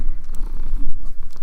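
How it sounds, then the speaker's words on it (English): A cat purrs loudly and steadily, close up, a continuous low rumbling rhythm with no talking over it. "She's purring so loud"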